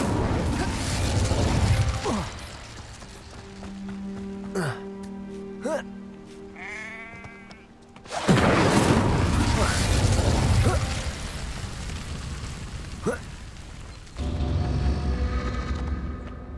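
A fire spell cast in Hogwarts Legacy erupts as a sudden loud roaring whoosh about halfway through, over game music and mechanical clatter, with a second burst near the end; a voice talks earlier.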